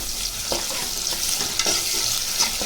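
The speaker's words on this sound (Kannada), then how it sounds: "ಚೆನ್ನಾಗಿ ಫ್ರೈ ಮಾಡ್ಕೊಳ್ಳಿ" Chopped tomato frying in a pan for paneer matar pulao, a steady close sizzle with light scraping stirs of a spatula every second or so, no talking.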